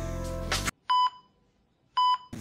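A mobile phone gives two loud electronic beeps about a second apart, clear and close, right after music cuts off, then a quiet gap before sound resumes.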